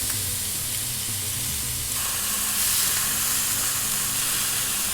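Venison sizzling hard as it sears in a very hot pan, a loud continuous crackling hiss that swells slightly partway through, close up with no talking.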